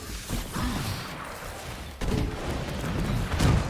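Turret gunfire in the video game Marvel's Avengers, with bursts of shots and booming impacts over a busy battle soundscape and a sharp hit midway through.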